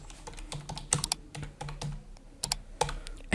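A WordPress login username and password typed on a computer keyboard, crisp separate key presses at an uneven pace, close and clear with no speech.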